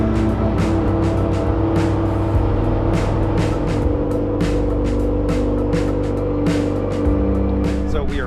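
A Mitsubishi Evo gas car drives along a highway, its engine a steady, loud drone with tire and road noise that never lets up.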